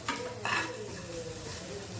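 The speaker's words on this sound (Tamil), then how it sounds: "இது தேங்காய் பூவையும் கொஞ்சம் வதக்கிடுங்க." Grated coconut sautéing in a pan for a lentil-and-greens dish, a soft sizzle with a couple of sharp scrapes of a spoon against the pan near the start, then a low steady frying hiss.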